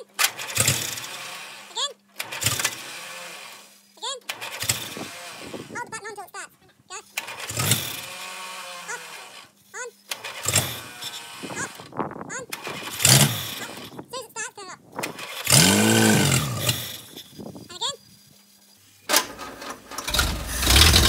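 A Land Rover Series 1 engine cranks in repeated short bursts, sputtering and catching briefly between pauses, with people talking in between and over the attempts after a carburetor swap.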